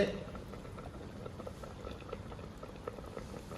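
Greens with tamarind boil uncovered in a pot, a steady close bubbling and popping simmer that runs evenly throughout with no voices.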